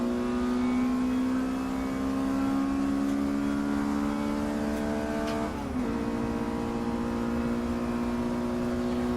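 Race cars accelerate away at the start of a race at Snetterton, a loud sustained engine drone heard from the cockpit that holds steady, dips briefly and climbs again as the revs rise.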